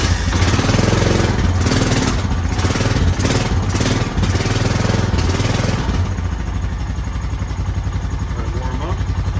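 A 1998 Honda 450 engine warms up after a cold start, its loud, close, uneven chugging idle pulsing rhythmically throughout, with a voice briefly heard over it.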